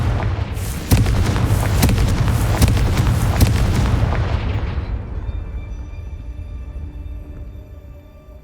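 A Confringo blasting spell explodes in Hogwarts Legacy, a loud, rumbling burst with crackling debris and repeated sharp impacts for about four seconds before a long fade into a faint, ringing tail.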